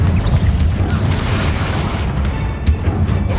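A Confringo fire spell from the game Hogwarts Legacy erupts in a loud, deep boom with a rumbling low-end burst, followed by a second sharp blast near the end. No talk over it.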